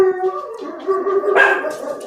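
Dogs bark and break into a drawn-out howl nearby, loud and wavering, with a sharper yelp rising near the end.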